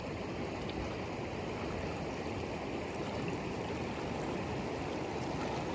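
River on the Appalachian Trail rushes in a steady, dense wash of flowing water at a river crossing, continuous and fairly close, with no voices over it.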